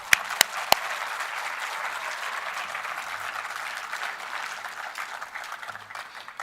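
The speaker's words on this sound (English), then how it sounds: "Please clap for yourself." University faculty and audience at a Pune campus event clap for themselves, a steady, moderately loud wash of applause opening with a few sharp individual claps.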